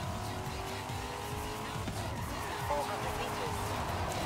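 A car drifts in the video game Forza Horizon 5, engine roaring steadily with tire squeal and skidding layered over it, fairly quiet overall with a voice talking over it.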